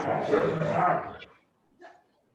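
Dogs barking at home during an online video call, a loud, close burst of rough barks lasting about a second, then a brief quieter yip before silence.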